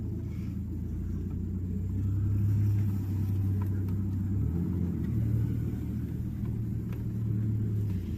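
A cheap used pickup truck's engine runs while driving, giving a steady low rumble with a slight swell in revs partway through. There are no clunks, and it plays close and continuous with no talk for about eight seconds.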